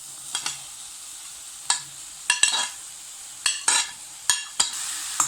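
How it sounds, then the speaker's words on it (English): Finely minced mushroom stalks sautéed with onion in a pan: a low sizzle broken by a series of sharp spatula scrapes and clinks against the metal, close and clear, with no talk. "Now we can add finely minced mushroom stalks and saute it well."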